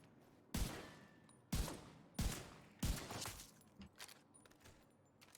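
Rifle shots from The Division 2, a run of four loud, sharp single reports about a second apart, each with a short decaying tail, followed by fainter impact clatter.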